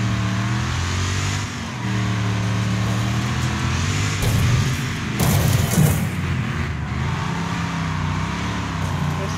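An RV's engine revs hard in Wreckfest, a loud, sustained drone with shifting pitch and a few rough bursts and thumps midway.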